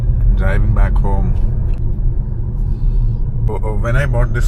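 A Jeep Compass 4x2 Night Eagle drives along with a steady low road rumble from inside the cabin, while a person talks over it at the start and end.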